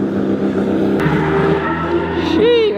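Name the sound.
2JZ-swapped Nissan 370z engine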